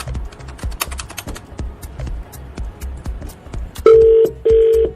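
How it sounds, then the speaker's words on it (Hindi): A telephone is dialed: a rapid run of sharp key presses ticks along for several seconds, then two loud, sustained ringback tones sound close and clear. "फोन मिलाओ"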